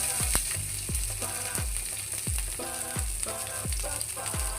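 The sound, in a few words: green chillies frying in hot oil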